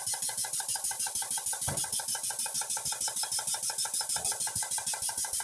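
A malfunctioning solenoid valve on a cleaning and test bench, driven at 40 PSI of air pressure, chatters in a rapid, steady train of mechanical clicks over a constant loud hiss and hum, with no talk.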